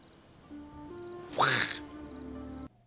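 In a martial-arts parody film scene, a woman imitates a duck with a single loud, nasal quack rising over a faint background hum.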